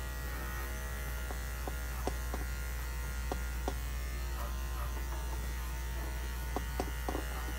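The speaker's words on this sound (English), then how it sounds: "I'm not handling my clippers real heavy." Electric pet grooming clippers buzz steadily and close on a dog, a constant droning hum with faint light clicks and taps scattered over it, and no voices.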